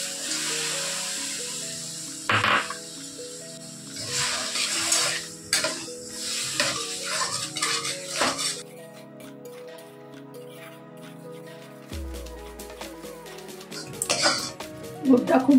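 Palm jaggery is melting in a hot pan with a spoonful of water, with scattered stirring scrapes and soft clinks against the pan alongside a light sizzle, and a person speaking over it.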